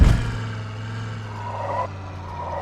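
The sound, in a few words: vehicle driving, from video game Project Zomboid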